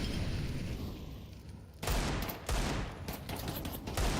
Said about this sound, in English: Finding that headshot onto the Deagle.